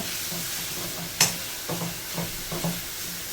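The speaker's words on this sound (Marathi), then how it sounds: "मसाले व्यवस्थित तेलात आपण परतून घ्यायचे" Spices with red chili powder, turmeric, garam masala and hing sauté in hot oil for a Malvani-style dish, a steady soft sizzle broken by a few stirring scrapes and clinks.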